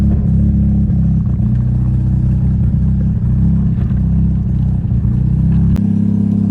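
A Mazda RX7 FD3S rotary engine idles, a loud, close, steady low rumble with slight roughness and a small shift in tone near the end.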